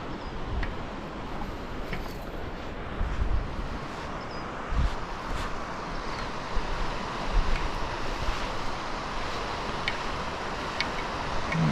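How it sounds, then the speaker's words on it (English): Fast-flowing water of the Kern River rushes steadily as a broad, constant wash close by, with faint wind and scattered light clicks and knocks on top, and no voices. "Water's flowing pretty fast."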